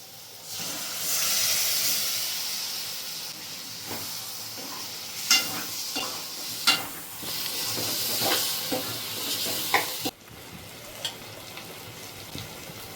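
Mutton liver with salt, turmeric and chilli powder sizzles and hisses steadily in a hot pan, with occasional clinks and scrapes of a utensil stirring, close by.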